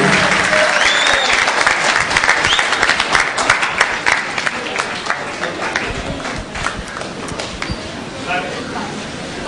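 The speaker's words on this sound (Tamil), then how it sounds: "வாங்க மேல நல்ல பாராட்டு கொடுங்க" An audience at a Tamil arts festival gives loud, sustained applause, dense clapping close by that fades slightly toward the end, with a voice speaking over it.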